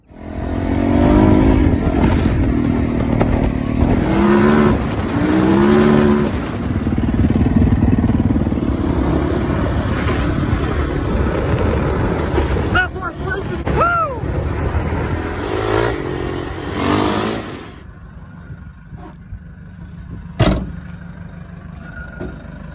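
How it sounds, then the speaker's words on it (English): A Harley-Davidson motorcycle engine rumbles loud and close, revving in rising and falling surges as it pulls away, then fades toward the end with a sharp knock near the close. "And now I get to ride my Harley home."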